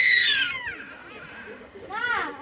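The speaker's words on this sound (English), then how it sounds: "There's a little boy in there that's screaming." A little boy screams and squeals while being tickled: a loud shrill burst at the start, a quieter stretch, then a second high-pitched squeal near the end, close by.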